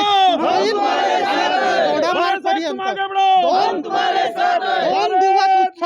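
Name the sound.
crowd of party workers cheering in celebration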